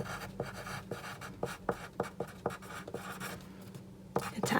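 A pen scratches across a paper bookmark in short handwritten strokes, a close, dry scratching with irregular bursts and pauses between words and no voice.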